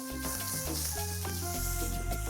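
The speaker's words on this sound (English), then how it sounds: "You can hear the nice little sizzle coming off. That means your saute pot is ready to go." Hot oil sizzles in a saute pot, a steady hiss heard beneath prominent background music.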